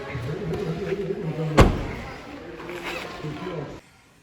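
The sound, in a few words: closing a Hyundai Kona interior compartment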